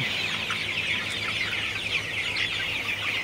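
A flock of 44-day-old Sonali chickens clucks continuously in a hot, stuffy poultry shed, with many overlapping soft calls forming a steady, close murmur and no talking.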